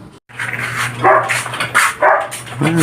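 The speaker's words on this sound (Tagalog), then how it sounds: "Dinig nyo naman siguro yung tahol niya kaya papakainin ko at gutom na yun." A dog barks several times in an irregular rhythm, close by, with a few yips and whimpering tones between barks.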